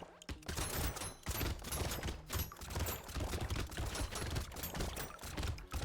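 Weapons firing automatically in the Brotato arena, a constant dense rattle of small pops and hits layered with busy game effects, steady and fairly quiet throughout, no speech.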